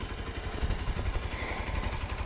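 A motorcycle engine revs on black ice on a ride from Assam to Arunachal while its wheels spin and skid without grip. The engine gives a steady, close, low pulsing chug with a brief higher whine near the middle.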